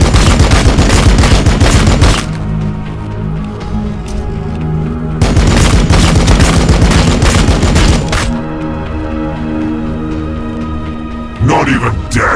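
Loud, dense gunfire from Warhammer 40,000: Battlesector, delivered in two long rattling volleys with booming impacts, separated by a lull in which a steady rumble continues.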